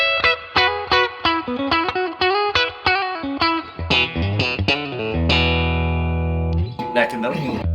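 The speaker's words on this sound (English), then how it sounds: "For fun, bridge and Firebird middle for some stratty tones." Distorted electric guitar on bridge and Firebird middle pickups through a 1960s Fender Deluxe Reverb amp, playing choppy chords and single notes, bright and twangy, ending on a long sustained chord that rings out before more picking.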